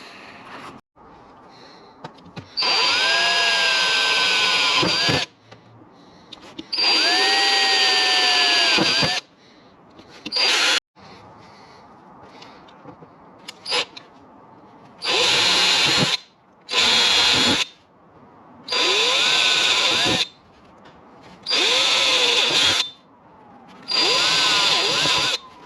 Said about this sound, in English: I got the holes drilled, which is what you saw me starting to do before the battery went flat on the GoPro.